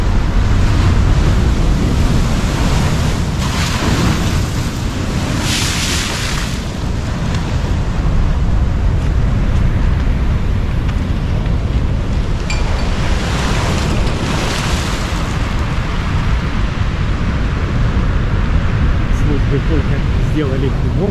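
Storm surf pounds the Alushta embankment in autumn 2023, waves hurling pebbles ashore in a constant loud roar with surging crashes, heavy wind buffeting the microphone throughout.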